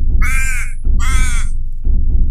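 An injured raven lying on the ground caws twice, loud and close, each call harsh and drawn out with a short pause between, over a low steady background rumble.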